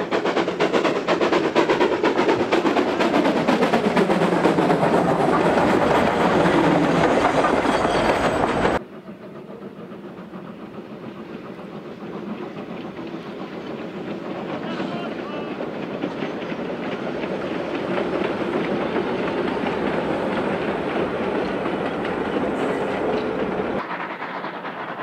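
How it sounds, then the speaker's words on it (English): Historic wood-burning steam trains, two locomotives double-heading a restored passenger train and mixed trains, rolling past loud and close with steady rail rumble and clatter, then continuing more distantly as a quieter passing train. "168 and 425 double-headed with the railroad's newly restored historic passenger train, while the visiting woodburners double-headed mixed trains"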